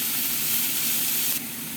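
Ground pork giniling sautéing in a pan for a Filipino ginisang giniling dish, a steady close hiss and sizzle with a slight drop in level near the end.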